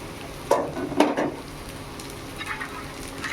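Jackfruit vegetable stirred in a wok while oil is added, with two brief loud scraping stirs early on and a faint sizzle in between and afterward.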